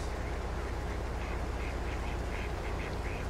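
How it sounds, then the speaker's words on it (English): Ducks quack repeatedly in short, irregular bursts, moderately distant and partly buried under a loud, constant wash of background noise, with no speech. "I hear duckies."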